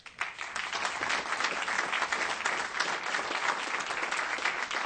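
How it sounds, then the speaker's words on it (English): Applause for student council members at a city council meeting, a steady, fairly close burst of clapping from the room that lasts throughout without talk. "Why don't you stand up so we can all give you a round of applause."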